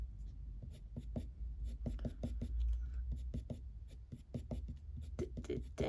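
Derwent Coloursoft pencil scratching across paper in close, uneven strokes, a steady run of short scraping bursts with brief pauses between them.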